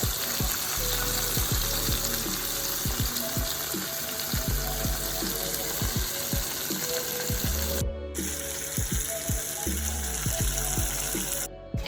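Seasoned, flour-dusted chicken breast tenderloins sizzle and crackle steadily in hot oil in a Jamaican Christmas dinner kitchen, a continuous close frying hiss with scattered pops and clinks and a few brief breaks.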